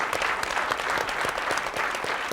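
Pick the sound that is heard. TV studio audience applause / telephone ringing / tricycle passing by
TV studio audience applause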